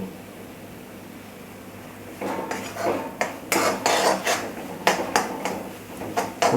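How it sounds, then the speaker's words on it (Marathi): A spoon stirs brinjal bharit in a metal pan, sounding as a run of sharp clinks and scrapes close up, irregular and fairly quick, after a quiet start. "या प्रकारे हलवून घ्यायचे"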